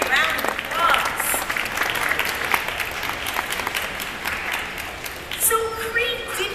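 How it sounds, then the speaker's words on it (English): Audience applause swells and holds for several seconds, then tapers, with voices heard over it near the end. "Let's give Cree a big round of applause."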